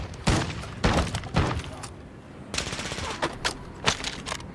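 Automatic gunfire from a machine gun in Call of Duty DMZ comes in several loud, close bursts of rapid shots, with short pauses between volleys and a quicker rattling string near the end.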